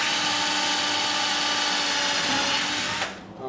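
A Milwaukee M12 screw gun drives a screw into wood for a potato box, a steady loud motor whine running for about three seconds before cutting off abruptly near the end.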